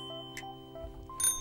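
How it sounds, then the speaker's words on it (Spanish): A bicycle bell in a children's show rings in two quick, bright dings, fairly faint against a quiet background. "Me encantan los timbres. Hacen ding ding."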